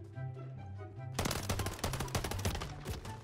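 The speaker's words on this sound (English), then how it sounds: "I tried to kill him with a damn pistol" Rapid pistol shots from the video game Modern Warfare 3 ring out in a loud, dense burst after a quieter opening second, with no voices over the gunfire.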